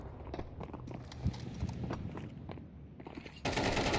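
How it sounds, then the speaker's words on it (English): Rapid footsteps in a competitive tactical shooter esports match toward the B bomb site, a quick patter of steps mixed with sharp in-game gunfire bursts, loud and busy, with no commentary over them. "Car's close enough to hear all these footsteps towards the B bomb site"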